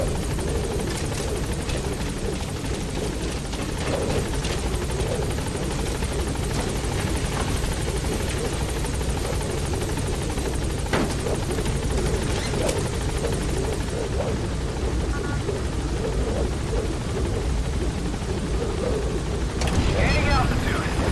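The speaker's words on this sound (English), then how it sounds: "Support helicopter has arrived." A support helicopter in the Metal Gear Solid V game touches down at a landing zone, its rotor thumping steadily and loudly across the whole span, with a brief surge near the end.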